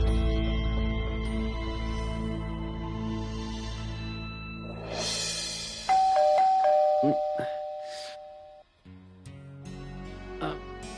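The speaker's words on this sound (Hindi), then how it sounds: "दरवाजे की डोरबेल बज रही है" A doorbell chimes indoors during a Hindi TV drama, ringing several times as clear melodic tones over background music, with voices talking around it.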